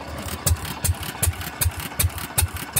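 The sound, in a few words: Fairbanks Morse 208 oilfield engine running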